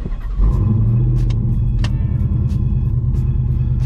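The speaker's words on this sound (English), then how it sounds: "I hope the wind noise isn't too bad, or the drone" Inside a moving car, a steady low engine drone mixes with wind noise at constant loud volume, with a few faint ticks above the rumble.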